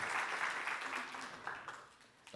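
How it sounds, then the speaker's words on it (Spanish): Applause from an audience at a sustainability panel event welcoming a panelist, a fairly faint, steady wash of clapping that thins out toward the end. "que brindemos un fuerte aplauso, por favor, a Gabriela Lizarazo"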